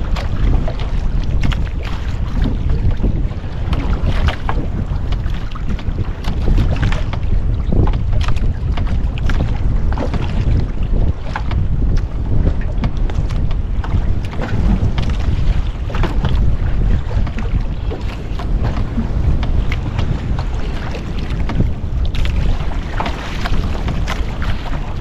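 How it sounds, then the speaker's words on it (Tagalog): Strong, buffeting wind roars steadily against the microphone over open sea on a lobster-fishing trip, with a constant low rush and no voices. "medyo malakas ang hangin sa balas"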